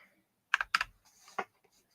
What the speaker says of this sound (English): My miniature keyboard.